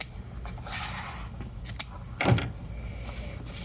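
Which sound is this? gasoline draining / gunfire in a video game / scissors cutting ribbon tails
scissors cutting ribbon tails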